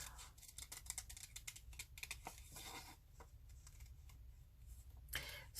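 Scissors cut out a small paper piece for a collage, heard as a quiet, close run of crisp snips and paper rustles with a faint low background hum and no talking.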